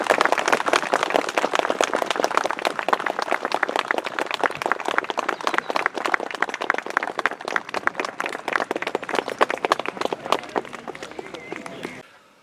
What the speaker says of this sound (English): can we have a huge round of applause for the living historians